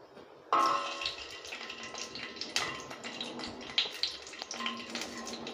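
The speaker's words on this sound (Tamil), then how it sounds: "சீரகம் நல்லா பொரிஞ்சு வருது" Cumin seeds and garlic frying in hot oil for a curry-leaf kuzhambu give a steady, close crackling sizzle that rises suddenly and keeps up with scattered pops and splutters, no voice over it.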